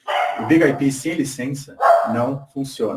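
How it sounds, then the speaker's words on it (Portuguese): Someone talks steadily while a dog barks and yips in the background, partly buried under his voice. "Desculpa o cachorro aqui que está latindo."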